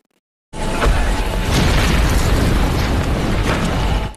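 A bomb explosion from the action film No Surrender: a loud, sustained blast and roaring rumble lasting several seconds after a brief silence, with no voices.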